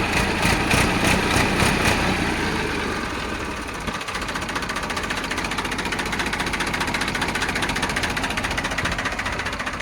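A New Holland 3600 tractor engine runs steadily at idle, a close, continuous diesel rumble with a rapid knocking pulse throughout, with no talking.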